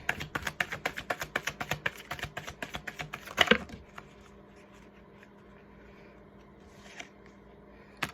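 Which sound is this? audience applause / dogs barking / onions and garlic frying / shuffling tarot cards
shuffling tarot cards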